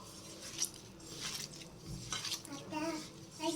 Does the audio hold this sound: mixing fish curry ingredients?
yes